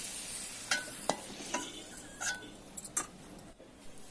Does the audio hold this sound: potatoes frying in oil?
yes